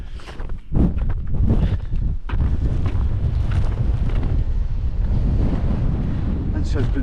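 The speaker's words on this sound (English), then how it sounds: "I was getting battered by the wind" Strong wind on the summit of Stob Binnein, roaring and buffeting loudly against the microphone in gusts that build and stay heavy throughout, with no talking.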